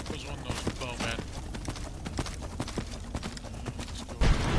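A horse's hooves clip-clop at a run in Skyrim on PS4, a steady quick patter under dense game noise and low background sound.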